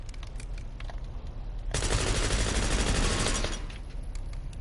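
Automatic weapon fire in Call of Duty Black Ops 6 multiplayer: a sustained loud burst of rapid shots lasting nearly two seconds that rises out of quieter background noise and then cuts off.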